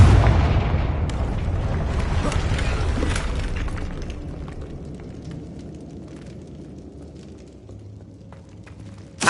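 A Confringo fire spell explodes in a Hogwarts video game, a loud, deep boom that rumbles and slowly fades over several seconds before a sharp new burst at the very end.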